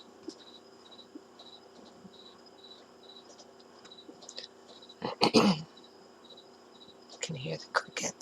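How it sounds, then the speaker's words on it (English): Crickets chirp in a steady, evenly spaced pulse, faint and in the background, while nearby rustling and handling noises from someone working indoors break in twice toward the end. "Can hear the crickets."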